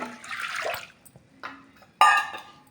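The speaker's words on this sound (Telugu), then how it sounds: "తర్వాత అదే గ్లాస్తో మూడు గ్లాసుల వాటర్ పోసుకుందాం" Water is poured from a glass onto toor dal set to soak, in two splashing bursts: a longer pour first, a short pause, then a sharper, louder splash that tails off.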